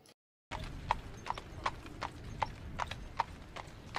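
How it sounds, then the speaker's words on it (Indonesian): Horse hooves clip-clopping in a steady, unhurried walking rhythm, about a dozen sharp knocks at moderate distance over a quiet night background. "Yang bikin gua terjaga terus itu adalah bunyi kaki kuda ini"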